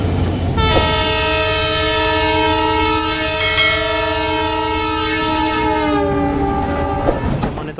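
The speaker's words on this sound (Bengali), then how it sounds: "একতা এক্সপ্রেস ট্রেনটি আসছে" The Ekota Express, hauled by a WDM3D diesel locomotive no. 6553 with passengers crowding the roof, arrives at a station sounding a loud, sustained horn for about seven seconds over the rumble of the train.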